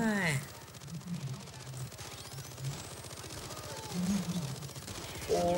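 Rapid, sustained automatic gunfire from a Bulldozer enemy in the video game Payday 2 rattles steadily throughout, close and dense, with excited voices talking over it.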